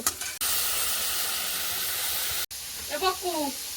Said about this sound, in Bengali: চিংড়ি মাছটা কড়াই দিয়ে একটু ভেজে নেব